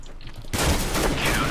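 Counter-Strike: Global Offensive gunfire erupts after a short quiet moment as a dense, loud burst of rapid shots that continues steadily to the end.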